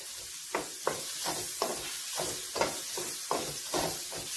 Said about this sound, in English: I'll just stir them in the oil so that they get soft.